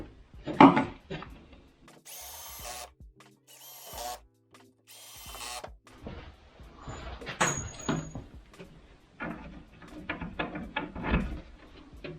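A power drill drives pocket screws into a wooden storage cart in a workshop, with several short bursts of whirring and rattling, pauses and handling knocks of wood between them, close to the listener.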